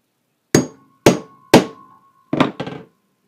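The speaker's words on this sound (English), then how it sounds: "Take my hammer, give it a good shot." Five hard metallic strikes of a hammer on a pin punch driving out a pin from a Transformers toy: three evenly spaced blows, then a quicker pair, loud and close in a quiet room.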